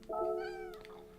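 A cat gives a single short, clear meow close by, rising then fading within about a second.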